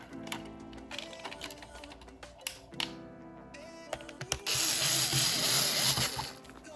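Screws are driven back into the plastic shell of a moldy VHS cassette, first as light irregular clicks and ticks, then as a louder continuous whirring buzz lasting a couple of seconds, close and fairly quiet overall.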